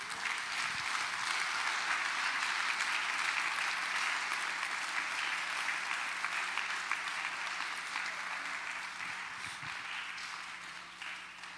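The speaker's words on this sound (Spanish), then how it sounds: "denle un aplauso a Jesucristo" A church congregation applauds in a steady, dense wash of clapping that fills the room, sustained for over ten seconds and easing slightly toward the end, with almost no talk over it.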